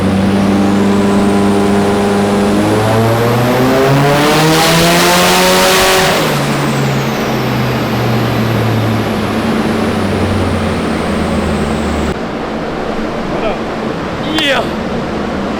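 Turbocharged Nissan S15 engine on a dyno run, loud and close, revving steadily upward through the gears to a high-pitched peak, then winding back down as the run ends and the roar fades.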